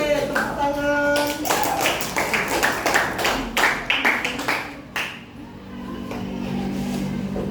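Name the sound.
classroom clapping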